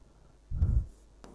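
Chalk writes on a board during a class 10 maths lesson on quadratic equations, a single short scratchy stroke followed by a faint tap, close and quiet with no speech.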